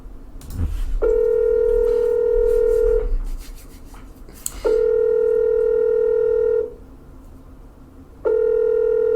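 Telephone line tones while placing a call: a steady sustained tone sounds in three long stretches, each started after short clicks and button presses, close and clear with no talking.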